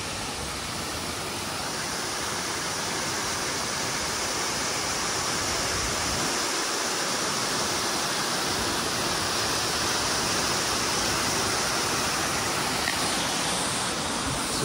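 Bridal Veil Falls in Provo Canyon, Utah roars as a loud, continuous broadband rush of falling water heard up close, steady throughout with no voices.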